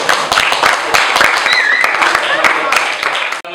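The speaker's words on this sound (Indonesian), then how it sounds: "Mungkin beri tepuk tangan kepada" Students in a classroom applaud after a class presentation, a dense burst of many hands clapping that runs for several seconds with some voices mixed in, ending abruptly.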